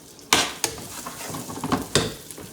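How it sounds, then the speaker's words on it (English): Chopped onion stirred in a hot pan on a high flame, with a few sharp scrapes and clanks of the utensil against the pan over a soft, steady sizzle. "So I'm gonna give it a little stir."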